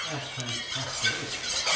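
A toddler rubs and scrapes pots and pans together at a first birthday, making irregular metallic scraping and stirring sounds in short strokes, close by and moderately loud.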